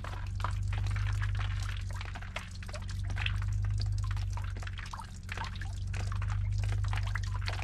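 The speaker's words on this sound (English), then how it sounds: "Texas, it's raining on me." Rainwater pours off a roof edge in the northern Arizona desert, a loud continuous splashing stream with dense dripping and a deep steady rumble underneath, swelling and easing slightly in waves.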